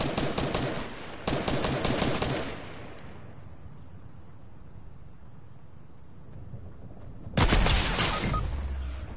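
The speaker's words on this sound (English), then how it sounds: "We both sniped each other." Sniper rifle shots in an online squads video game: two loud, booming reports in quick succession with rumbling tails, a long quiet stretch, then another sharp, powerful blast that rings out, close and alone.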